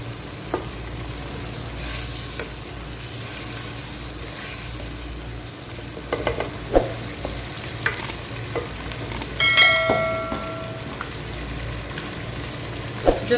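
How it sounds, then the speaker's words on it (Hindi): Mutton fries in a handi with yogurt, a continuous soft sizzle under sharp scraping and stirring clatters that come in bursts toward the end. "मैं इसको इसमें फ्राई करूँगी।"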